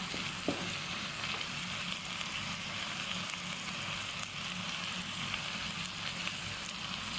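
Ingredients mixed and stir-fried in a pan for a minced pork and dok salid dish, a steady even sizzle and hiss throughout with one faint utensil tap near the start, no talking.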